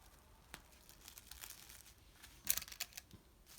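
Scissors cutting pieces of fusible interfacing for sewing, soft crinkling and snipping sounds with a few sharper crisp cuts near the end, faint and close with no talking.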